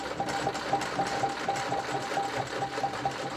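A sewing machine runs at a monastery on Mount Athos, a steady close whirring with a fast, even stitching pulse that continues throughout, with no voices.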